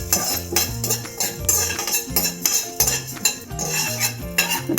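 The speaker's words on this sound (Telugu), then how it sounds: "ధనియాలు కూడా వేయించుకుందాం" A metal spoon scrapes and clinks against a pan in a steady rhythm while coriander seeds are dry-roasted for bitter gourd powder, with a backing music track playing over the stirring.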